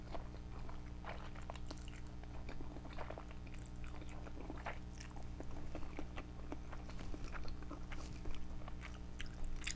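Garlic butter and lemon shrimp being eaten up close, with wet, steady chewing and biting that runs through the whole stretch, over a constant low background hum.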